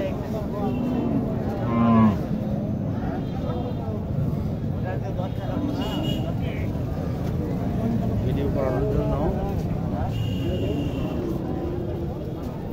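Cattle at a rural livestock market, a cow with a young calf, heard amid a crowded bustle with people talking close by and an occasional low moo in the mix.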